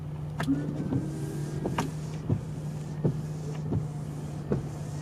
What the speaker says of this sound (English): that's your windshield wipers